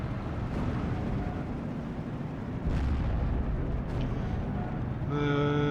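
Jagdpanther tank guns firing in the WWII strategy game Steel Division 2, heavy booming blasts rolling into a constant dense battlefield rumble, with a louder surge midway and a brief tonal sound near the end.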